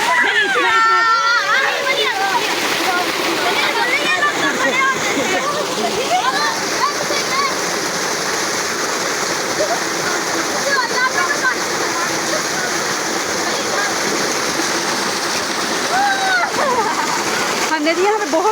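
Water from a village tube well splashes and gushes continuously and loudly, like a steady torrent, with people talking and shouting throughout.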